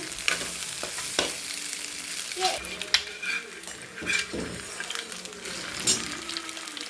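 Scrambled egg podimas frying in a pan, with a soft steady sizzle broken by repeated scrapes and clinks of a spoon stirring against the metal, close and moderately loud, and no talking.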